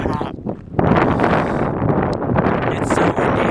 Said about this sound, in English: It's super windy out here